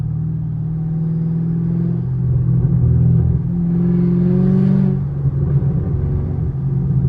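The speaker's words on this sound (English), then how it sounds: "Catless straight pipe" A deep, rumbling 6.2L V8 Camaro SS engine with a catless straight-pipe exhaust revs up and settles back, loud and raw, with a throaty exhaust burble and no talking.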